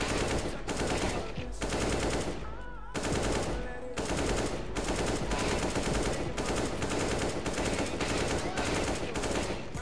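Repeated bursts of automatic rifle fire from the video game CS:GO, each a short spray of a few shots separated by brief pauses. The shots are loud and close, with faint game sounds between bursts and no speech.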